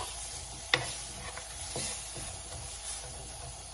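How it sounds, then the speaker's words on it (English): One large onion stirred with a spoon in a pan as it caramelizes, a soft steady sizzle with a sharp clink of the spoon early on and a few scraping strokes. "We will stir the spoon for a couple of minutes."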